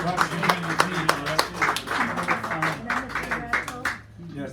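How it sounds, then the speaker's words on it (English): Small audience clapping at a café poetry reading, close and uneven, with sharp individual hand claps mixed with voices talking over and between them. "give him a round of applause"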